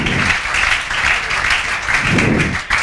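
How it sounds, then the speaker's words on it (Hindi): Loud, steady applause and clapping from a classroom audience in a maths coaching class, cheering a student for achieving a rank, sustained throughout with no talk. "जोरदार तालियां बजाओ"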